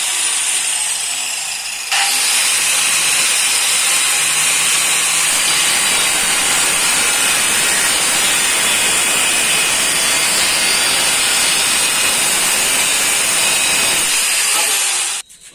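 Metal being cut on a tractor baler, a loud continuous harsh hissing roar that starts abruptly, holds steady for about twelve seconds, then cuts off.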